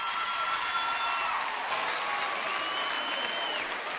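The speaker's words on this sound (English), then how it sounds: "Let me hear the women clap that are loyal to their men, truthfully." Women in a stand-up comedy audience clap in a loud, dense, sustained burst of applause, with high cheers and whoops threaded through the steady clapping.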